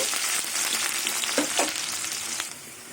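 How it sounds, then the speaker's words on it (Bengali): Chopped onions fry in hot oil with whole cumin, giving a loud, continuous sizzle with a few soft stirring knocks, close and with no voices. "কুচুনো পেঁয়াজ থেকে লাল লাল করে ভেজে নেব"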